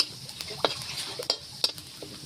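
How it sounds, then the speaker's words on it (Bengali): Chopped ginger sizzles in a hot pan while a metal spatula stirs it, giving sharp clinks and scrapes over a continuous frying hiss. "তার জন্য আমি এই আদা কুচিটা এইরকম করে ভেজে"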